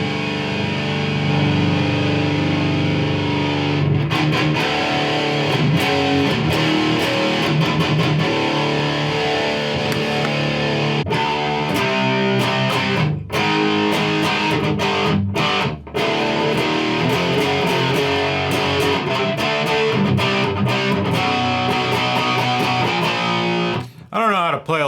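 Heavy distorted electric guitar plays riffs through a crunchy Marshall JCM800 amp, sustained and loud, with a few brief gaps between phrases.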